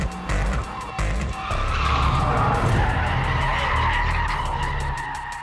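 A Mitsubishi Evo rally car skids and slides with sustained tyre roar and engine noise, loud and close, a couple of abrupt breaks near the start before a long continuous slide.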